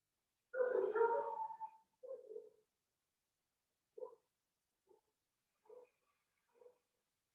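Pet dogs bark from a distance in a quiet room: one longer, whining bark, then several short, faint, spaced-out yips.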